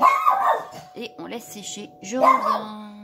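A dog barks a few times in short bursts near the start and again later, mixed with someone speaking French at close range during an art journal craft session.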